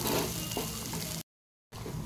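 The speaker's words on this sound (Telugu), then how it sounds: "ఇదంతా ఇట్లా నూనెలో ఉడకనివ్వాలి." Samosa ingredients frying in oil, a dense, close sizzle that stops abruptly for a moment and then resumes.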